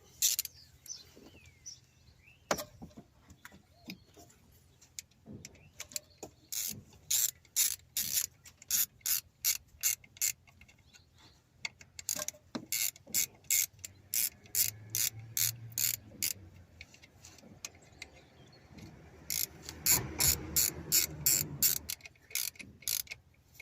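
A wrench tightens the ignition coil on a Seat Leon engine with rapid, loud ratcheting clicks in repeated bursts, separated by brief pauses and light metallic handling noises.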